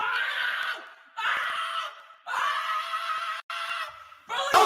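Screaming from a played video clip comes in four long, shrill bursts separated by short pauses, fairly loud and alone, with the last burst sharpest.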